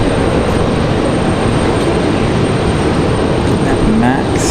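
A Copa airliner's jet engines roar on the runway at takeoff, a loud, broad, continuous rushing hiss heard from a distance at an airport.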